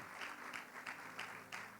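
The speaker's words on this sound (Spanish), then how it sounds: "Un fuerte aplauso al Señor." A church congregation claps for the Lord during a Spanish-language sermon, a faint, distant wash of applause with soft, regularly spaced beats.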